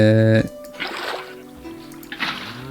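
Water being placed in Minecraft makes two soft splashing washes about a second apart, following a brief tonal game sound at the start.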